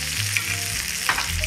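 Australian wagyu steak sears in oil in a cast iron pan over a cassette stove, giving a close, continuous crackling sizzle with small pops.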